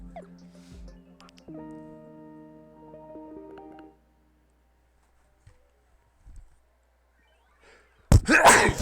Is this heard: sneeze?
yes